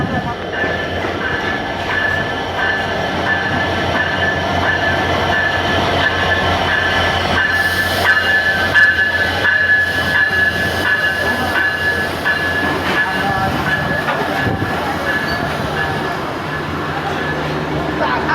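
A train rolls past on the Chilahati–Haldibari India–Bangladesh border railway with a steady, loud rumble, wheel clatter and a thin squealing tone, while onlookers' voices mix into the noise.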